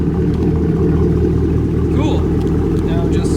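A deep, rumbling straight-piped exhaust on a 2011-2014 Ford F-150 pickup idles loudly and steadily close by, with a brief voice cutting in near the end.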